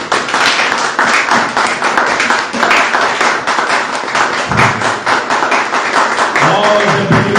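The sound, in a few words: congregation applauding for God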